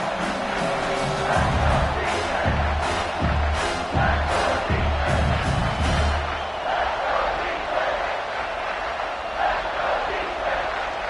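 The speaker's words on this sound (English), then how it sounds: "here comes the noise. This crowd is trying to inspire this defense to make a big red zone stop" A large football stadium crowd roars and cheers continuously for the defense before a red zone play, swelling in waves with rhythmic low thumps early on, then settling into a steady, dense rumble.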